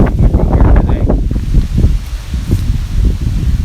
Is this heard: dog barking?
no